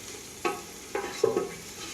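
Biryani ingredients are stirred in a pot: a few soft scraping and clinking strokes of a spoon over a faint low sizzle, quiet and close, with no talking.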